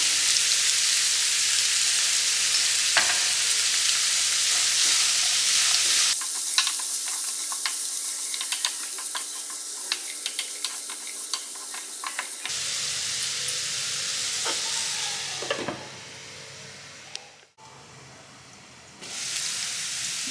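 Beetroot and onion pieces fry with turmeric in a pan, giving a steady close sizzle broken by spatula scrapes and clicks, with a brief lull near the end before the hiss returns.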